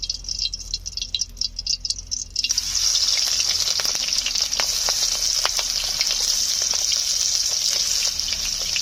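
Lobster prawns drop into hot oil with a sudden burst of loud, steady sizzling and crackling frying, close up, following a brief quieter rattle and continuing without pause.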